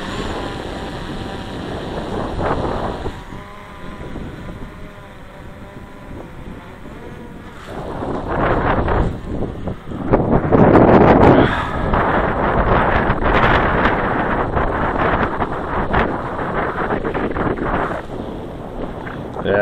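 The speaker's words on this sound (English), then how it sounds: "it's getting some really high wind" Strong high wind buffeting a drone-filming microphone outdoors in extreme cold, a loud rushing roar that swells and gusts, heaviest in the second half, with some faint talk.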